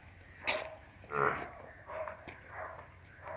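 A buffalo on a village farm in Firozpur district, Punjab, gives several short, low lowing calls in a loose rhythm, close by and fairly quiet.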